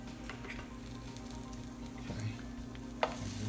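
Sausage and pancakes frying on a griddle give a steady, close sizzle, with a soft clink near the end and a brief scrape as a pancake is flipped.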